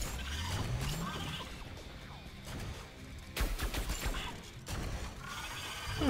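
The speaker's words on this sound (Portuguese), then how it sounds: "Vamos usar aqui a arma nova de parafuso?" Mechanical clicking and rapid bursts from the new screw weapon firing in the G-Force video game, a busy run of ratcheting, gear-like shots with a louder burst near the end, no talking.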